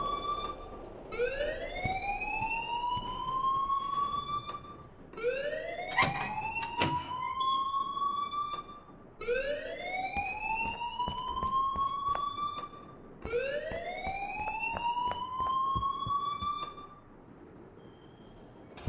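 Electronic alarm siren in the video game Life Is Strange, wailing in four long rising sweeps that climb and hold, repeating steadily and loudly with no pauses.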